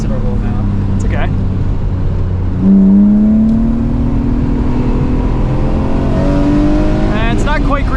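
A 1998 BMW E36 M3 engine pulls through the gears on a wet race track, rising in pitch with steady droning acceleration, loud and close from inside the car, with voices talking over it.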